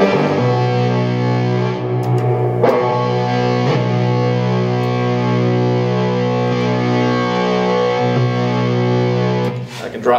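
Heavily distorted guitar tones from a looper pedal drone and layer over a repeating looped phrase, loud and sustained, with brief picked accents.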